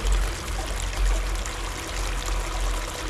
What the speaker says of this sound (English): And rinse it out one more time.